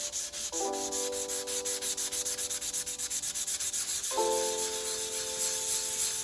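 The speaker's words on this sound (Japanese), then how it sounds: "空研ぎサンドペーパーの320番で研磨していきます" Wood floor repair putty dry-sanded by hand with 320-grit sandpaper, a close, rapid back-and-forth rubbing rhythm of light strokes, with a faint tonal hum running underneath.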